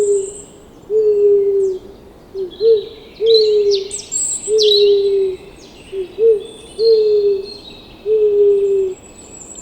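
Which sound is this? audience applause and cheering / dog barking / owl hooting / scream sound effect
owl hooting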